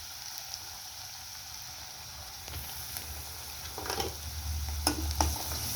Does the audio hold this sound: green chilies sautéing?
yes